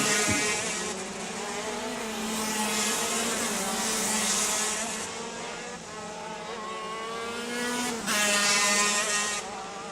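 KZ2 shifter racing karts with Vortex engines howling past on a race track: overlapping high-pitched engine whines that rise and fall, with louder surges as karts come close.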